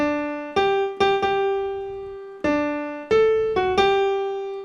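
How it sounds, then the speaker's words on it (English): Two piano notes rise a perfect fourth, the pair struck several times in succession, clear and ringing with no voices. "That's what a perfect fourth sounds like."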